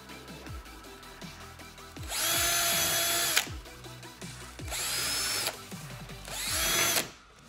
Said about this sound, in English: So I'm gonna take this drill, and I'm gonna drill out little sections of this